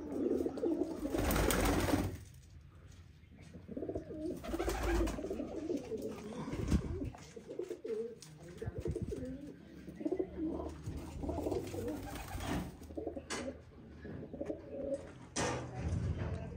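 Pigeons coo in low, rolling calls close by amid rustling and handling noise, with some faint background voices mixed in.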